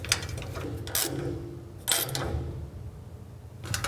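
Bolts are fastened onto the bracket of a Laguna P Flux cyclone dust collector, with a few short metallic ratcheting bursts spaced apart over low mechanical hum, close and moderately loud, with no talking.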